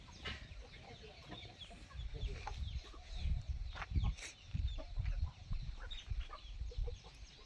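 A flock of native farm chickens near Pusad clucks continuously and fairly close, with a low outdoor rumble and occasional louder bursts from the birds throughout.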